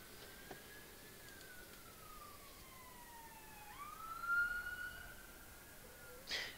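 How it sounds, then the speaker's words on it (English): A siren, most likely from an ambulance, passes outside with a faint wailing tone that slowly falls and then rises. It sounds distant and muffled against low background noise, and no one speaks. "Been hearing a lot of those lately. The ambulances and stuff."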